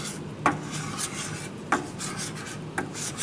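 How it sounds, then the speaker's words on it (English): Dried excess tile glaze being scraped off a wall and pushed into a bucket, heard as a steady rasping scrape with three sharper clacks spaced about a second apart. "I'm scraping excess dried glaze off the wall and pushing it into the bucket."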